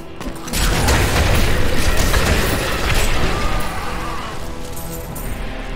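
Grenades explode in the video game Diablo III, heavy booms rolling into a loud, sustained rumble of blasts and crashing debris with no one talking.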